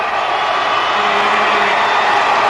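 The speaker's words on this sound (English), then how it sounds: "And listen to the crowd." Dense crowd noise rises from a packed Times Square audience in the final half minute before the New Year ball drop, a loud continuous roar with scattered whoops and cheers swelling throughout.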